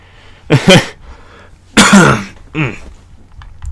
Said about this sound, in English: I'm sorry if I coughed into the mic.